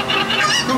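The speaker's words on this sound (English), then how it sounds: "Yeah, that's what those chickens are called. Cocos." Cucco chickens from the video game Zelda: Ocarina of Time clucking and squawking in a brief, loud, continuous burst with no talk over it.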